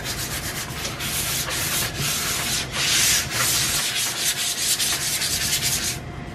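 Hand sanding the top edge of a piece with 220 grit sandpaper to prepare it for epoxy, a steady close scratchy rubbing that continues without a break for about six seconds, with no talking.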